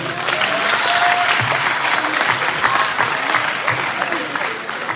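A crowd at a national town hall meeting claps loudly in sustained applause, a dense continuous wash of many hands that stays strong throughout, with faint voices mixed beneath.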